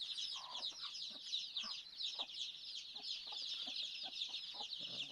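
Domestic chickens raised for eggs on a small rural farm cluck in a steady, moderately close chorus, with soft repeated calls over a continuous background of insect or bird chatter.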